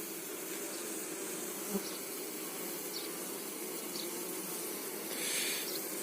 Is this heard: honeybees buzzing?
yes